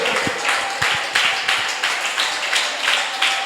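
A congregation claps hands in rhythm during worship praise, steady repeated bursts of clapping filling the space with voices mixed underneath.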